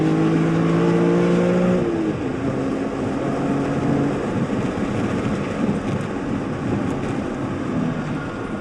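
A BMW E46 M3 track car runs in 4th gear at over 100 mph on the Sonoma race track, giving a loud, steady engine roar with wind rush and a brief higher engine note early on, with no talking.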